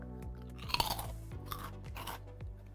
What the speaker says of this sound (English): Did you hear that crunch? They're really light and crunchy.